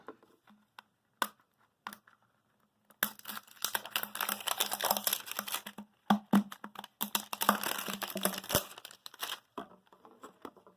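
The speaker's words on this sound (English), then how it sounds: "First, we're going to cut off the label." Scissors snip and crinkle through a plastic label on a washed plastic bottle, a few isolated snips at first, then a dense run of crackling cuts and crinkles, close and alone.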